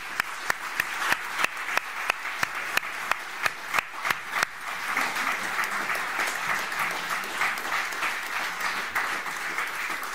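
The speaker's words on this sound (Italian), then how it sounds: "Ringraziamo con un bel applauso Imran Rasool" An audience applauds at the end of a lecture on justice and ethnic discrimination. A few distinct claps open it, then they swell quickly into dense, sustained clapping that fills the room.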